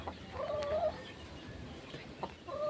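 Chicken hen in a gamefowl yard giving a few short faint clucks and calls spaced out over quiet background.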